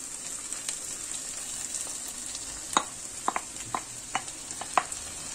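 Onions, garlic and lardons fry in a pan with a constant bright hiss, broken by several sharp spatula taps and scrapes near the end.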